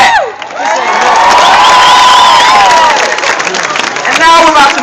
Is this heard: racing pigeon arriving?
no